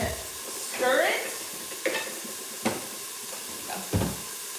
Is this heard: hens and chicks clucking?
no